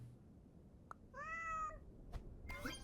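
A cartoon cat in the Super Auto Pets video game gives a single short, clear meow, set between a few faint clicks and taps in an otherwise quiet game scene.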